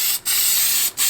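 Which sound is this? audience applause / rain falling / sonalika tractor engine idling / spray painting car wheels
spray painting car wheels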